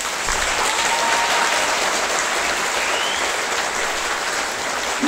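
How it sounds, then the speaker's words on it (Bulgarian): An audience applauds steadily for the full length, a dense, even wash of many hands clapping, loud and sustained without a break or voices. "Ако е така, моля за аплодисменти."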